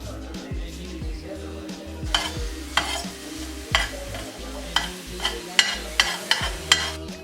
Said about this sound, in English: I lightly coated my pan with some grapeseed oil, and then I added in my garlic